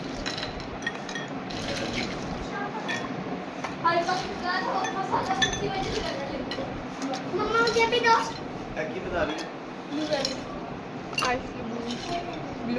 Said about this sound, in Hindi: फिर इसके ऊपर हम डालेंगे आइस क्यूब्स